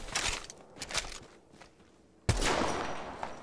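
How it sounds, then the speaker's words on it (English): Video game gunfire aimed at a cargo bot: bursts of rapid shots cut in, fade, then resume loudly in a dense, crackling volley near the listener. "I'm only shooting a cargo bot."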